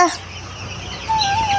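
Chickens in a coop, including black hens and chicks, give faint clucking and short calls over a low steady hum, with a brief high call near the start and thin chirps toward the end.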